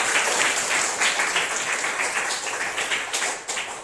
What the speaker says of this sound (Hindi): तालियां बजाओ जोरदार